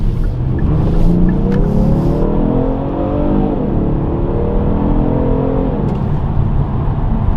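A Genesis G70 twin turbo in sport mode accelerates hard, its engine note rising steadily through rising and falling gear sweeps, loud and close from inside the car, with no talking.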